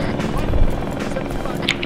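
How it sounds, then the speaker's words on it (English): A military helicopter in ArmA 3 drones with a steady, dense rotor and engine roar throughout, close and loud, with a voice talking faintly over it. "There's another helicopter."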